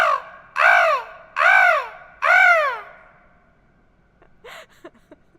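A person's voice imitates a crow, giving three loud, harsh caws in steady succession, then a few faint breathy sounds after a pause.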